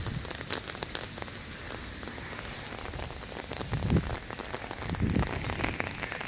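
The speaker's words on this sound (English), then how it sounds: "It's starting to rain a little harder now." Rain falls harder onto a street, a continuous close patter of drops with scattered louder splashes and a couple of heavier swells, no talking.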